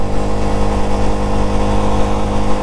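A Bajaj Pulsar F 250 motorcycle engine cruising at highway speed, a steady loud hum with wind rush that stays constant throughout.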